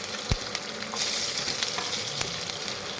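Cumin seeds and chopped garlic frying in hot oil make a steady close sizzle, with a sharp clatter near the start and a few small pops and stirring scrapes along the way.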